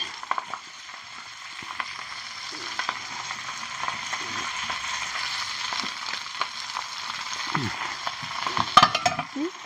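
Chana dal and mint leaves sizzle steadily in hot oil in a pan, with scraping stirs and light clatter scattered throughout; a faint voice is briefly audible near the end.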